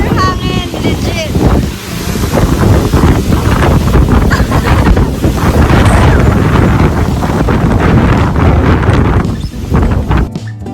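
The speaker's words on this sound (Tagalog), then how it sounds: "At lakas ng hangin." Strong wind buffets the microphone in heavy gusts, with a voice talking intermittently underneath the roaring rush.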